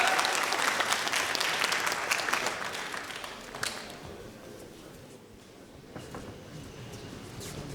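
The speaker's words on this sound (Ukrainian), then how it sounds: "вітайте оплесками боксера з міста Бровари Раміс Железняк!" A crowd at a boxing event applauds to welcome a fighter. The clapping starts dense and loud, then gradually thins and fades over several seconds.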